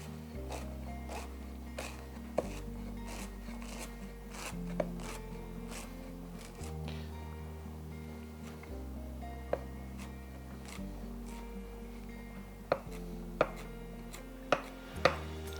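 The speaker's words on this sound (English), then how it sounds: "and then we just start chopping." Knife chopping a bunched pile of herbs for aglio e olio pasta on a cutting board, a steady run of crisp close chops with short pauses as the pile is turned, over a low background hum.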